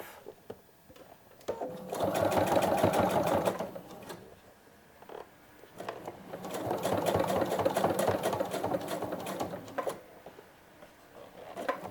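A sewing machine stitches a jacket seam nearby in two sustained runs of rapid, even mechanical whirring, separated by a brief pause with a few isolated clicks.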